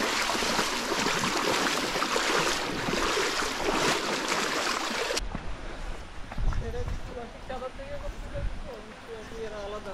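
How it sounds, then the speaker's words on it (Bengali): Ruposhi waterfall at Sitakunda, surrounded by trees, roars as a loud, dense rush of falling water for about five seconds before the scene cuts to a quieter, closer setting. "অবশেষে রূপসী ঝর্ণার দেখা পাইলাম।"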